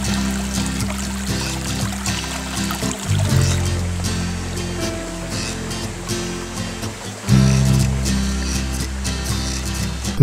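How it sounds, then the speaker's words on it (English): A creek on a hiking trail to China Hole in Santa Clara County flows with a constant, full rush of water at close range, its steady wash swelling briefly twice. "The trail crosses the creek 12 times."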